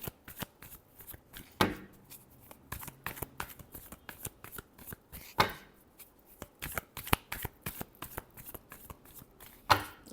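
A deck of tarot cards is shuffled by hand in a repeated run of crisp riffling flicks and soft slaps, close and fairly quiet, with no voices heard.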